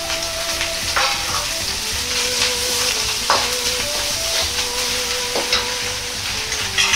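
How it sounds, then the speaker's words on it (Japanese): Green peppers and carrots stir-fry with minced meat, doubanjiang, garlic and ginger in a hot pan, a constant close sizzle broken by repeated sharp clinks and scrapes of a utensil against the pan. "ピーマンと人参も入れて炒めます。"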